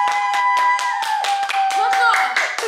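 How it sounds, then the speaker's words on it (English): A small group claps for a few seconds for a contest winner, with a voice or two over the uneven applause. "let's clap for Soraya"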